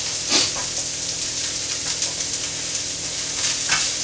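Chopped onions frying in a pan for spaghetti bolognese, a loud continuous sizzle and hiss with brief stirring scrapes, close and without talk.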